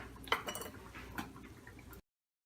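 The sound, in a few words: water being added to a cooking pot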